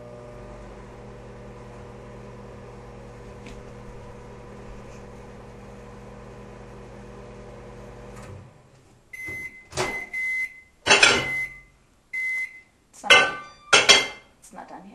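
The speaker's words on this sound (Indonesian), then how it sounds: "And last but not least, the microwave. Put it in for about" A microwave oven runs with a steady low electrical hum for about eight seconds, then stops, followed by a series of short clattering knocks and brief beeps.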